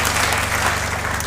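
Steady, dense applause from an audience at a lively event, continuous and fairly loud throughout the short burst.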